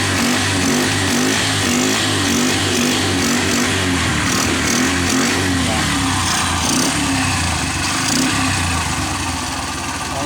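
A Bajaj CT 100 motorcycle engine fitted with a 4-pin CDI runs at a steady, even idle close by, a buzzy continuous putter with no misfires and no speech over it.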